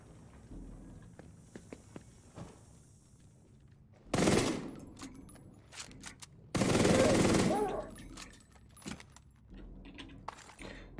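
Rapid automatic gunfire in The Division 2, two loud sustained bursts about a second long each, separated by scattered clicks, impacts and quieter game noise.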